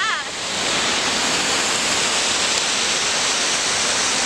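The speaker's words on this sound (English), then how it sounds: "Lovely waterfall." A waterfall on a hillside walk near Hartsop and Glenridding rushes steadily in a loud, dense, unbroken roar of falling water.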